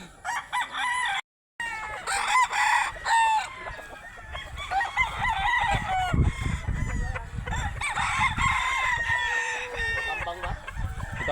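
Young gamecock stags crow again and again, loud and close, with clucking from other fowl in the farmyard between the calls.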